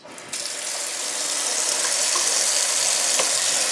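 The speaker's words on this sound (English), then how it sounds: "grab your pot, turn on your water, cold water preferably" Cold water from a kitchen tap pouring into a cooking pot, a steady hissing splash that starts abruptly and holds evenly, close and fairly loud with no talking.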